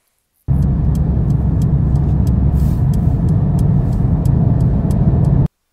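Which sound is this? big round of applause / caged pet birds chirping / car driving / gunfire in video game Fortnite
car driving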